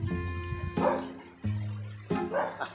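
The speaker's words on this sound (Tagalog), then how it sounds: "Ingay na mga aso, grabe mga aso." Dogs bark in short bursts against a steady droning hum, with several sharp barks spaced a moment apart at close range.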